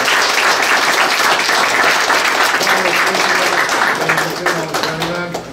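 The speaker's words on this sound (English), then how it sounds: "I think everybody here deserves a round of applause." An audience claps after a panel discussion at a film screening, a loud, sustained round of applause that fades toward the end as voices start to talk over it.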